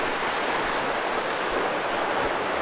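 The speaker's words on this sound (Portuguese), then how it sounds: "É a cachoeira do Riacho do Catuaba." The waterfall of Riacho do Catuaba, a constant loud rushing roar of falling water filling the scene without pause.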